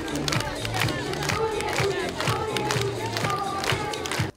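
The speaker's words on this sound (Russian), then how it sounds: "Первоклассники под бурные аплодисменты" Stormy applause and crowd noise as first-graders take their places at the opening of a new school in Bobruisk. The dense, steady crowd sound lasts throughout, with a mix of voices, some cheering and clapping.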